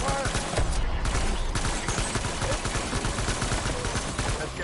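Gunfire in the Death Stranding video game, a dense continuous fusillade of rapid shots and bursts, loud and close, with no pauses and no talk.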